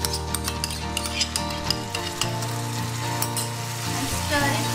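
Curd poured into a hot pan for a Bengali doi maach fish curry sizzles steadily while being stirred, with a continuous close crackle and a few sharper clinks and pops from the pan.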